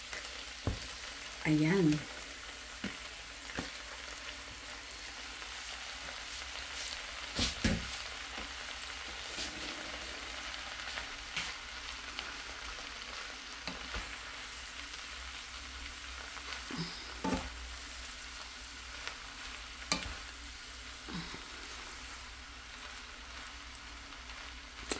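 Taro leaves frying in a pan for a dish with coconut milk, shrimp and smoked mackerel, giving a steady soft sizzle with occasional stirring clatters, fairly quiet, and a brief word spoken early on.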